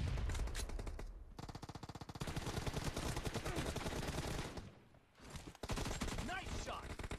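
Rapid automatic gunfire from a team deathmatch video game, loud and dense bursts with brief pauses, mixed with game sounds and occasional voice.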